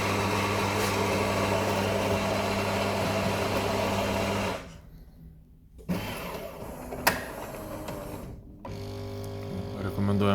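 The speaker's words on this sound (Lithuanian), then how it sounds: "Dabar va, galim pasikelti ir pasigaminti juodos kavos puodelį" A JURA S8 Piano Black coffee machine brews a cup of black coffee with a loud, steady motorised hum. The hum stops briefly and then starts again, with clicks and a softer whirr between the runs.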